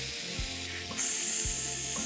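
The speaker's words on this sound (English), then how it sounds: "I hear the sizzle." Steady sizzling of a burger patty frying on a hot stove, a constant hiss with soft scraping and low rumbling underneath, no voices.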